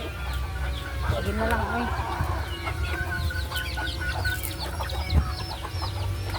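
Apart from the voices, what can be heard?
chickens clucking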